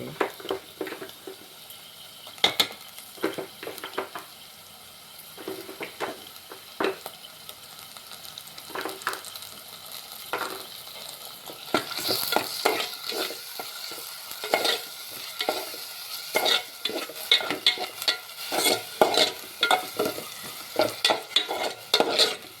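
A coconut, ginger and shallot paste fries in a pan for aloo kurma, a constant close sizzle broken by repeated sharp spoon scrapes and stirring clatters that grow busier and louder in the second half.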